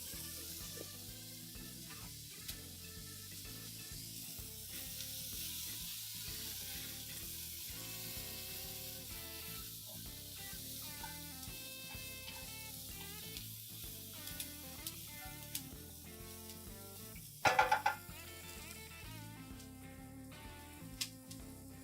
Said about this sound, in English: Garlic going in.